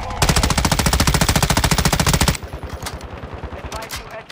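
Rapid automatic gunfire in Call of Duty, aimed at shooting down an airborne target, rattles loud and close in a dense burst for about two seconds, then drops to scattered, quieter shots.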